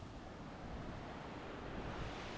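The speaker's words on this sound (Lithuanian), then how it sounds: "Girdisi Krioklys, tai manau, užsipilsim vandens." A waterfall in the Norwegian landscape north of the Arctic Circle gives a steady broadband roar, constant and fairly faint, with no voices over it.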